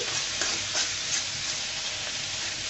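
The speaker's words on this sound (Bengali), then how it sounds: "এই পর্যায়ে আমি দিয়ে দিব বেশ কিছু ধনেপাতা, দিয়ে আমি নেড়ে চেড়ে নিচ্ছি" Cauliflower stalk curry is stirred in a pan after fresh coriander leaves go in, producing a soft continuous sizzle and hiss with light scraping from the stirring.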